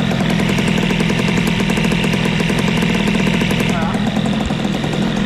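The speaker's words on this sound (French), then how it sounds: "Ah, c'est la pétarade là-dedans." Close, loud Airsal 70cc moped engine, a CPI 70 build, running with a rapid steady pulse and popping throughout, with a brief spoken word over it.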